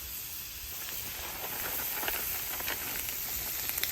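Butter sizzles on a hot Blackstone griddle, a steady, close hiss with faint crackling spatters that grows slightly louder over a few seconds, with no talking.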